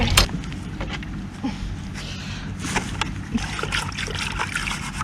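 Water running from a hose while filling on a homestead septic and leach line install, an uneven trickling and splashing flow with occasional sharp knocks and bursts.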